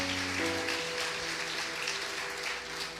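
A church congregation claps steadily for several seconds, the applause washing over sustained keyboard or organ tones in the background.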